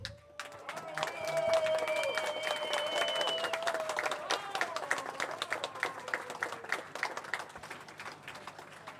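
Audience applause at a tango singing contest, steady crowd clapping with some cheering through the clip, mixed with lingering tonal music and a fading sung note early on.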